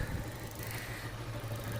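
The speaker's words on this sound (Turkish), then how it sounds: "Motorun sesi oldukça güzel." The 150 cc engine of a Lifan Discovery 150 motorcycle idles steadily after a tune-up, a close, even low thrum with a faint rattle and no talking over it.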